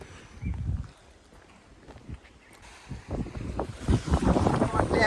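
Strong wind gusts at a full dam reservoir, buffeting the microphone in loud rushing bursts that build toward the end, with water sounds and faint voices underneath.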